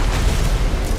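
A Gunlance firing in the Monster Hunter video game gives a deep, dense booming blast that rumbles loudly and continuously for about a second, with no talking.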